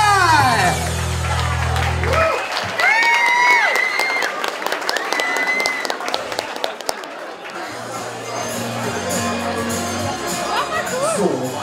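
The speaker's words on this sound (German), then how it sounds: "Einen großen Applaus für den Kerl!" Crowd at a live show in the Ruhr region claps and cheers loudly for a performer, a dense sustained roar of applause and whoops with voices calling out through it and music fading underneath.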